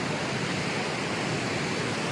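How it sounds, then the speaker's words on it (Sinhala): Galaboda waterfall in Sri Lanka pours in a steady, dense hiss of rushing water, constant and unbroken, heard from a moderate distance. "මෙතන ඉතින් ඇල්ල බලා ගන්න පුළුවන්"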